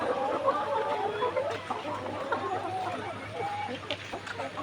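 Layer hens about 181 days old cluck steadily while eating feed in a hot poultry house, their calls layered over a constant droning hum and occasional faint voices.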